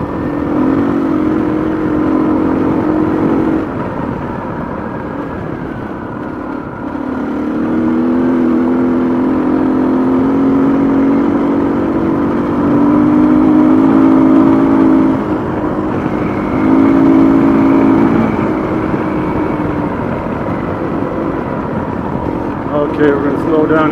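A rally car on a practice run along a public road through a village, engine droning steadily with rising and falling pitch as it accelerates and eases off, with a voice talking over it throughout.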